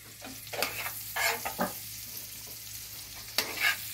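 Chopped onions fry in a pan for butter paneer masala, a soft continuous sizzle broken by several scraping stirring strokes and a couple of louder clanks of the spoon, close by with no talk.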